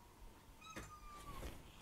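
A house cat meows near a workbench where a dirty desktop PC is being cleaned, a single drawn-out, rising and falling meow, faint and close, with a soft knock of movement after.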